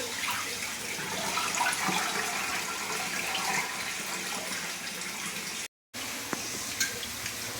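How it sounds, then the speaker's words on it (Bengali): Running water pours steadily as raw chicken pieces are rinsed clean for a red chicken kosha, a continuous splashing tap-like flow with a brief break near the end. "মাংসগুলো ভালো করে ধুয়ে নিই"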